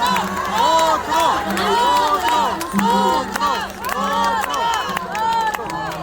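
Concert audience at a muliza performance in Peru cheering loudly, with many overlapping shouting voices and whoops rising and falling continuously, a dense, close crowd roar with a low steady hum beneath.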